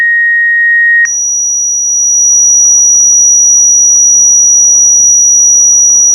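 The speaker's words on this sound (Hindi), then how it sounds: "ये 5814 हर्ट्ज़ है" A steady, piercing 5814 Hz sine test tone holds continuously after a brief lower beep, loud and unwavering.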